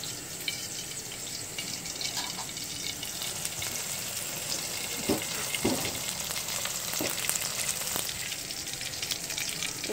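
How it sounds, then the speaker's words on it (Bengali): Leftover fish-frying oil being poured into a kadai for a rui fish curry with winter vegetables, giving a steady loud sizzle with several scraping spoon clicks and faint splashes. "মাছ ভাজার তেলটা দিয়ে দিচ্ছি কড়াইতে।"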